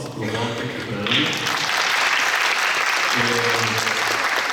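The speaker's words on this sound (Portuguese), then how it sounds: "Gostaria de mais uma salva de palmas para o Walter e para a Ana" Audience at an education fair lecture in Japan applauds in a full, continuous burst of clapping that swells after a second, while someone speaks over it at the start and again near the end.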